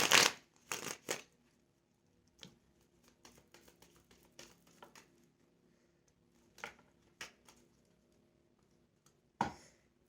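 Angel cards being shuffled, quiet close bursts of riffling and flicking paper, a louder flurry at the start, scattered softer taps and rustles in the middle, another burst near the end, no talk.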